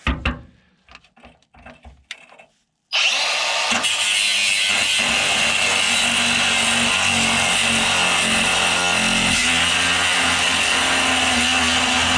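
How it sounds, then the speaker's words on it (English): A grinder cuts down a bolt close to its nut on an El Camino, a few clanks and handling sounds, then the tool starts abruptly into a loud, steady whine that runs on unbroken to the end. "I'm going to have to grind it as close to that kip nut as I can, and then pry it off."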